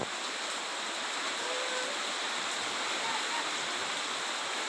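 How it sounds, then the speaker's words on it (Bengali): Heavy rain driven by strong wind pours down as a dense, continuous roaring hiss, loud and unbroken throughout. "তারপর দেখুন কীরকম বৃষ্টি আমাদের এই জায়গায়, প্রচুর পরিমাণে হাওয়া চলছে"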